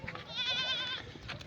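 A goat of the Barbari breed bleats once in a long, wavering cry amid the low murmur and shuffle of a village livestock market in Pakistan where sheep and goats are sold.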